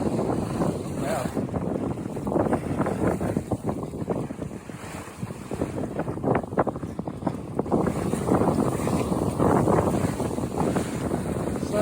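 Steady wind breeze rushing over an open Buccaneer 18 sailboat underway, a continuous broadband whoosh with gusty swells and water wash throughout.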